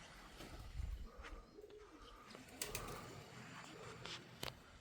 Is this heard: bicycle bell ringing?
no